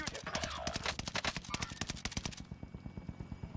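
Sustained automatic gunfire in Call of Duty, fast rhythmic shots loud and close for several seconds, slowing into evenly spaced single reports as the high crackle drops away.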